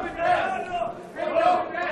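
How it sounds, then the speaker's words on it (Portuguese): Poker audience at a BSOP final table in Caldas Novas shouting out card names in unison, two swelling chanted bursts of voices rising and falling in rhythm. "você vê todo mundo gritando valete, paus"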